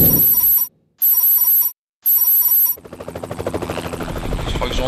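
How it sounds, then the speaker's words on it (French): A helicopter approaching a sailing boat at sea during the Vendée Globe race: a loud, steady thumping rotor pulse that builds after a few seconds of shrill electronic ringing bursts. "Je crois que j'entends un hélico là qui arrive vers nous"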